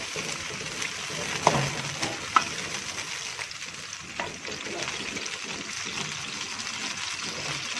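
Onions fry in a pan for a beef and potato keema, giving a continuous close sizzle and crackle at an even level, with a couple of sharper ticks and no talking.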